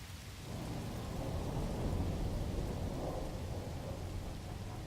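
A thunderstorm in a video game sounds as a steady wash of rain with a low rumble of thunder rolling underneath, moderately loud and continuous throughout, with no speech.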